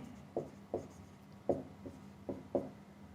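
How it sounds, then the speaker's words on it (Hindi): Pen strokes scratch across a cash book page, a handful of short separate scribbles with small pauses between them, quiet and close with no talking. "चलो कैश एट बैंक लिख देते हैं"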